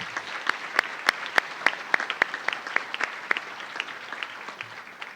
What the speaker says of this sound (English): Let's give a round of applause to Emma.